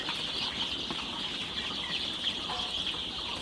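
Four-day-old Sonali super hybrid chicken chicks chirp and cluck continuously in a steady, close, high-pitched chorus, with occasional wing flutters and no talking.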